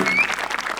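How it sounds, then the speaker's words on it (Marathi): Theatre audience clapping in a short, dense burst of applause during a stage performance, a brief crowded patter heard close. "जोरदार टाळ्या."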